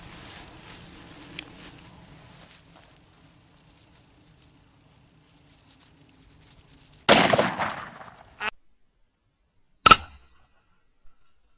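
A single sharp .44 Magnum hollow-point shot strikes an aluminum block, a loud crack with a brief ringing tail, heard alone after a quieter stretch with faint handling noise.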